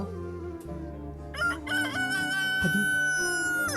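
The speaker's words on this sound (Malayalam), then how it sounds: "കോഴി കൂവി, നീ കേട്ടില്ലേ?" A rooster crows with a long drawn-out call over a sustained musical background.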